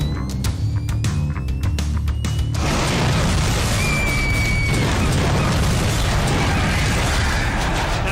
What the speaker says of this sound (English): land on one of the fire cannons as it ignites